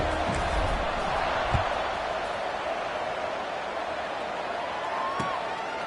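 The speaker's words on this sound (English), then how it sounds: "this crowd is buzzing after that last score." At a Ducks–Trojans football game, a stadium crowd keeps up a steady, broad, distant roar after a score, with faint thumps scattered through it.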